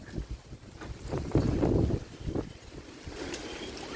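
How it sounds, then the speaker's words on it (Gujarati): Strong stormy wind gusting outdoors in a village windstorm, buffeting the microphone in rough, rumbling surges that swell loudest mid-clip and then settle into a steady roar. "બહાર બહુ અવાજ આવતો હતો પવન બધો"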